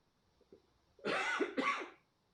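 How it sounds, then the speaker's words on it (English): Two quick, rough coughs sound up close after a quiet moment, breathy and a little strained. "I need to cough."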